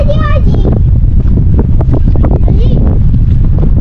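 Strong wind on a hilltop buffets the microphone in heavy low rumbling gusts, loud and continuous, while children and adults talk and exclaim over it.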